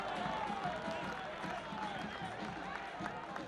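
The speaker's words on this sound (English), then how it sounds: "crowd getting more excited now" A home crowd at a Monterey Bay F.C. versus Louisville City FC football match roars steadily with cheers and scattered clapping, a dense continuous wash of noise under commentary.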